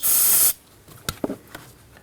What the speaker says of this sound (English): Using some brake parts cleaner, we're gonna go ahead and clean the master cylinder